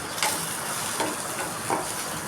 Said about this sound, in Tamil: கொஞ்சம் கறிவேப்பிலை போட்டு நல்லா இது கோல்டன் கலருக்கு வர அளவுக்கு நம்ம வதக்கி விட்டுக்கணும்